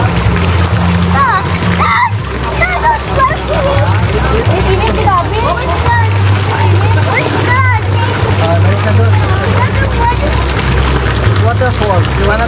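Waterfall splashing at a hot sulphur spring resort, a continuous spattering wash of water under lively chatter from adults and children nearby.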